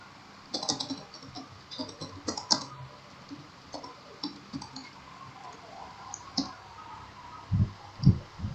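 Code is typed on a computer keyboard in bursts of close, sharp key clicks, with a few heavier thumps near the end.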